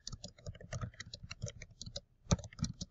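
Quick bursts of clicking keys on a computer keyboard, typed close and fairly quietly in uneven runs with one short pause and a sharper keystroke near the end.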